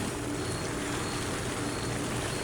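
Rain pours steadily onto and through a damaged thatched nipa roof in a farmhouse during a typhoon, a dense, constant hiss of falling water with no voices.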